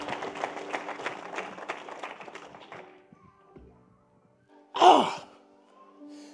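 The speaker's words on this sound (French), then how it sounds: "Clap for the Lord." A church congregation claps for the Lord, with rapid, dense applause that fades out over about three seconds, followed by near silence and then a loud breathy sigh.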